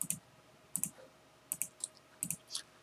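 A computer mouse clicks sharply during work in Cinema 4D, in quick pairs and single clicks spaced about every second, close and fairly quiet in a still room.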